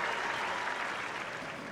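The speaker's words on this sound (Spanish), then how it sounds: "Aplauso fuerte." Crowd applause from the Top Spin 4 tennis video game on Xbox 360, a steady, full burst of clapping that fills the moment at an even level with no voices over it.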